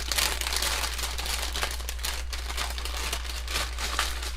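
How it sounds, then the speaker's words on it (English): Loud, steady crinkling and crunching of plastic or foam while hands are being cleaned, close to the mic and continuing without pause throughout. "Sorry for the loud crinkling noise."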